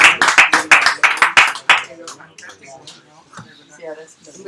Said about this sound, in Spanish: lo aplaudimos y cerramos el acto